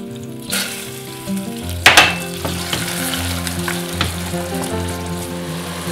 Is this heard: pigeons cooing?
no